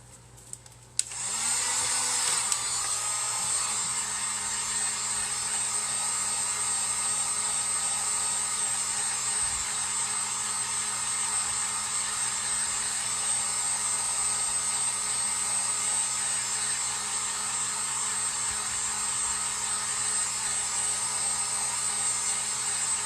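A handheld hair dryer blows steadily on a freshly painted DIY lighted board decoration, a loud continuous whir that switches on after a short click and runs unbroken at close range, with no voices.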